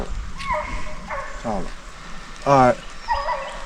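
A hunting dog on a South Carolina deer dog drive gives several short yips and a louder whining bark, scattered and fairly close, while someone speaks briefly.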